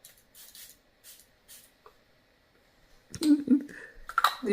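A small perfume bottle gives a few short, soft spray hisses at close range, followed by faint rustling and handling clatter.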